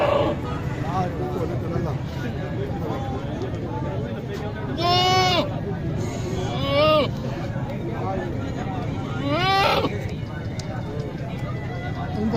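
A castrated male goat at a Qurbani livestock market bleats loudly three times in wavering calls, nearby, over a steady hubbub of crowd chatter and market noise.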